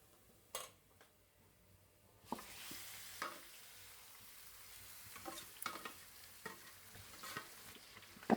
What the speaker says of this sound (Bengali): আমার পেঁয়াজটা তেলে ভাজা ভাজা হয়ে গেছে এখন আমার মেখে রাখা মুড়ি ফারানো মুরগির গোস্তটা আমি দিয়ে দিব